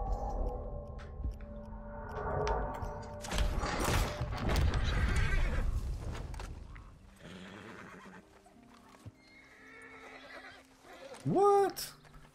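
A horse in the video game Red Dead Redemption II gives a rising whinny near the end, following a stretch of busy game sounds with hoof and movement noise, heard at a moderate distance.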